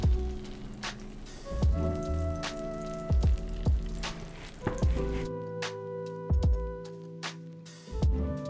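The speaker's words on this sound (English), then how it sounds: "So got a hot pan, and I'm gonna work with butter and olive oil to cook these." Crab cakes fry in butter and olive oil in a hot pan, a close, loud sizzle with crackling pops and occasional sharper spatters, with intermittent utensil clinks.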